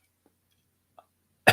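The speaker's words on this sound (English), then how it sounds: "excuse me, I had to cough there." A single close, loud cough bursts out at the end of a quiet stretch, with only faint breaths and small mouth sounds before it.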